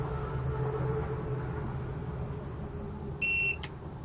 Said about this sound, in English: button until we hear a beep.